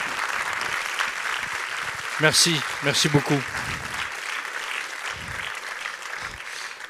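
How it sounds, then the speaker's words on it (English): Sustained audience applause fills a post-screening Q&A at a film festival, steady and moderately close, while someone speaks briefly over it midway. "Sound round of applause."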